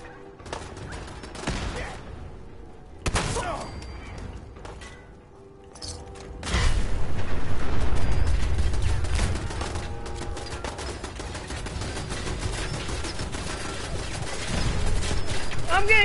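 Gunfire and combat mechanisms in the video game Fallout 4, rising from sparse clicks and clatter into a sustained, loud barrage of shots and noise that continues steadily to the end.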